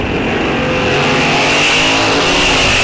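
Drag race cars launch off the starting line at Rock Falls Raceway during an NHRA National Open, giving a loud, continuous, close roar of engines and tires for a few seconds.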